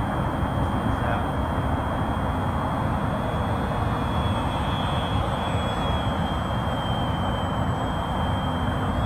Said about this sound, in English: Get that plane up there in the air and do what we can do.